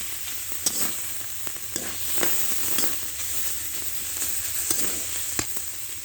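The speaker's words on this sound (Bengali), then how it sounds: "এবার এভাবে 2 মিনিটের মতো নেড়ে ছেড়ে নামিয়ে নেব" Leafy greens frying in a pan hiss steadily while a utensil stirs them, with sharp scraping clicks at irregular intervals.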